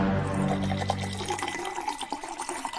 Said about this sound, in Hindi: बोतल खोल।